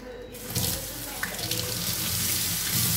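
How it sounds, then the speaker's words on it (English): Tap water gushes steadily into a sink as hands are washed, a close, continuous splashing rush starting abruptly after a brief quiet moment. "So there I go, wash my hands."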